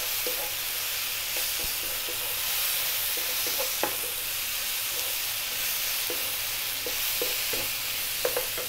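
Tomatoes cooking in a pan with cumin, black lemon and green cardamom for a Middle Eastern beef stew, a soft continuous sizzle broken by occasional spoon scrapes and taps against the pan.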